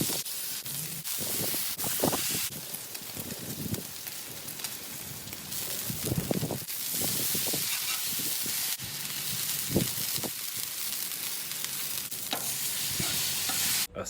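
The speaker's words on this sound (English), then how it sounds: "Cook the bacon." Bacon strips frying on a Blackstone griddle, a constant bright crackling sizzle with scattered pops and occasional spatula knocks, close and steady throughout, no one talking.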